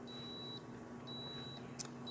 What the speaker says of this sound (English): high box temperature alarm.